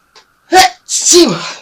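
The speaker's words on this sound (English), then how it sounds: "Oh, I'm going to sneeze." One loud, close sneeze from someone with a cold: a short sharp intake, then a forceful burst trailing into a breathy, descending exhale.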